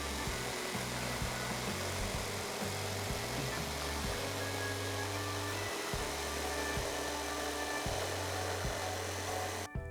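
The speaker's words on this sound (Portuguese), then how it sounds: "Então está cortado agora o compensado de 4 milímetros para fazer o forro do paiol, de acordo com o molde." A power saw cuts through 4 mm plywood for the ceiling lining of a sailboat's storage locker, a steady loud motor whine broken by repeated short pitch changes as the blade bites into the sheet, with no talking.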